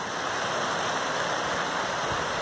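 Constant broadband rush of a creek flowing through a canyon valley, steady and fairly close, with no breaks or voices.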